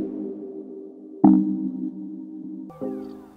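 A short tune built from a car's door-open and seatbelt warning chime plays as sustained tonal notes, with sharp attacks marking note changes, alone and fairly clear.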